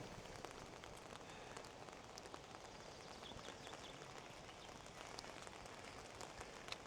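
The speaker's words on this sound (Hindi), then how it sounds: "बारिश मुसलसल हो रही है, बहुत तेज़।" Heavy, continuous rain pours outside Peles Castle in Sinaia, a dense, even hiss of drops striking surfaces that stays steady and fairly faint throughout, with no voices.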